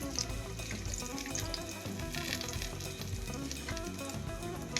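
Hot oil sizzles loudly and continuously in a pan as fried fish pieces are lifted out and drained, with a dense, unbroken frying hiss and no talking.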